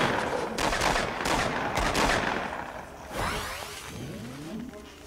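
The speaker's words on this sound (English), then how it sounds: "I hear gunshots all the way over there." Bursts of rapid gunfire crackle in quick succession, followed by whooshing mechanical sounds, moderately loud with no talking.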